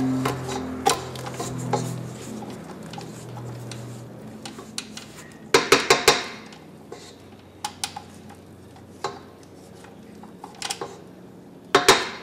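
A spatula scrapes cloud frosting of powdered sugar down the sides of a mixing bowl, giving soft rubbing strokes broken by several sharp clinks and taps against the bowl.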